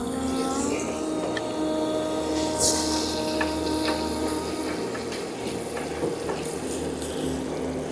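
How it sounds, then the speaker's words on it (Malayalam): Butter heating in a pan on the stove, giving a steady, moderate sizzle with soft crackles throughout and a brief brighter spatter burst partway in, no voices. "ബട്ടർ ചൂടായി, നല്ലൊരു ചൂടാവട്ടെ കേട്ടോ"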